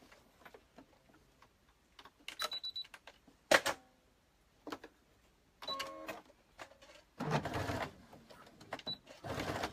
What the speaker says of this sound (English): And I just stitch back and forth quite a few times for the sturdiness.